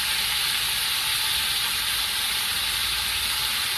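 Liver sticks frying in a pan, a dense bright sizzle and hiss that holds steady and close for the whole stretch with no talking.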